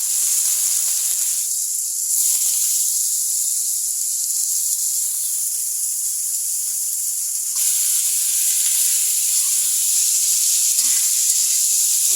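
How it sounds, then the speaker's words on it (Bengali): Shredded cabbage frying in hot oil in a home kitchen, giving a loud, steady hissing sizzle that swells and eases slightly as it cooks, with no voices. "আপনারা পাতাকপি ভাজি দেখুন"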